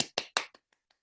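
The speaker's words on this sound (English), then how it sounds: "huge round of applause for Brian Stewart" A few close, crisp hand claps, three strong and then two or three faint trailing ones, from a virtual audience greeting an author at a reading, all dying away within a second.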